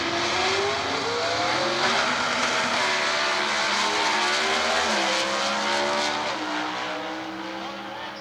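A competition eliminator dragster powers down the drag strip at an NHRA divisional event in Atlanta in 1992. Its loud engine roar climbs in pitch through the run, then gradually fades and recedes toward the end.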